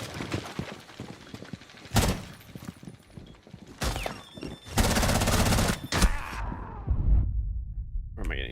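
Bursts of gunfire in a Rainbow Six Siege match, heavy volleys starting around two seconds in and a dense sustained burst near five to six seconds, with rumbling impacts and game noise between shots.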